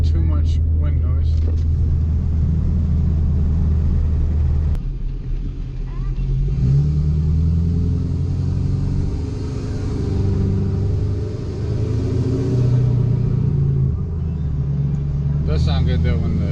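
A 2017+ Ford Super Duty pickup with an aftermarket exhaust and turbo drones low and steady while cruising at about 40 to 45 mph with the windows down, the rumble swelling as the engine pulls, with talk over it.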